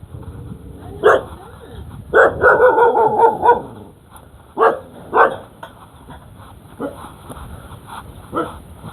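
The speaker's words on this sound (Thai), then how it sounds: "โอ้มานี่ก็เห่าเจ้าของเว้ย" A dog barks at its owner on a rural home garden plot in Laos during the cool season: a single bark, then a rapid burst of several barks, then a few more sharp barks spaced out, moderately close, with softer yips trailing off.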